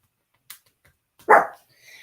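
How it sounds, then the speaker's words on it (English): Small dogs barking indoors: a short, sharp yip followed by a louder, fuller bark, heard fairly close with quiet gaps between them. "My little dogs, they have to bark during every stream."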